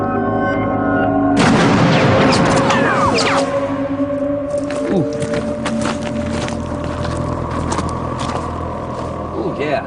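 A ballistic test of a World War II fragmentation explosive that drives metal balls into a dummy soldier and nearby rocks: a sudden, loud, close blast after a brief lead-in, then a long rumbling decay, with voices talking over it.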